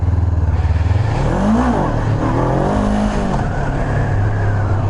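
A Honda CB500F motorcycle engine revs hard in first gear during a wheelie, climbing in pitch, dipping, then winding up again. The sound is loud and close, with a raspy, buzzing tone.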